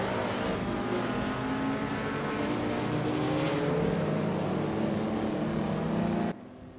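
Several race car engines roar together in a racing video game just after the start, with a dense, steady whine whose pitch rises and falls as cars accelerate, loud and continuous until it cuts off near the end.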